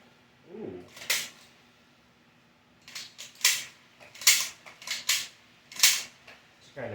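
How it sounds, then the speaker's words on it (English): Black Panther claw foam disk shooter toy firing several times, sharp snappy bursts arriving singly and in quick pairs, close and fairly loud against a quiet room, with a short voice sound near the start. "Let's do a little firing test."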